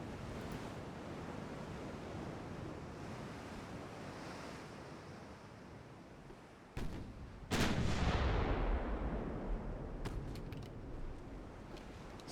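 Warship guns fire in Ultimate Admiral Dreadnoughts during a 1908 French naval battle: steady ocean wash and wind, then two heavy booming blasts close together about two-thirds through, with a roaring rumble lingering after. No one speaks.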